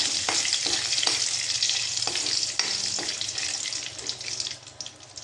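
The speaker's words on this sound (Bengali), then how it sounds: "এটাকে হালকা ভেজে টমেটোগুলো দিয়ে দেবো" Ingredients for a sweet-sour-spicy tomato chutney lightly frying in oil, a loud, dense hiss with a few sharp spatula taps early on, easing slightly toward the end.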